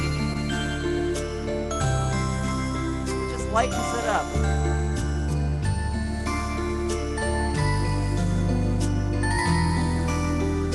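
A keyboard arranger plays a soft lullaby background style with gentle chimes and sustained pads under a steady accompaniment, while a voice talks briefly over the music.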